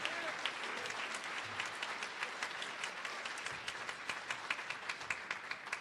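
Audience applause for the $500-tier attendees at a 2017 champ camp event, a dense, steady roar of many hands clapping that holds for several seconds, with some talk faintly mixed in.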